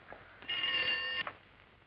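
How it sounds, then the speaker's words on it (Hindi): A telephone bell in a 1968 Hindi film rings once in a short, steady electric trill lasting under a second, faint and alone in a quiet room. "फोन की घंटी बज रही है।"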